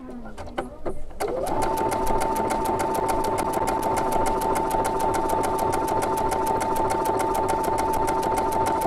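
A sewing machine stitches a blind hem, starting after a few faint clicks and then running at a steady fast rhythmic whir, loud and close with no talking.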